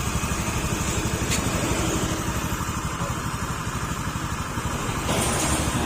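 A noisy car engine runs steadily at idle, a low continuous rumble with a faint rhythmic pulse, close by and with no talking.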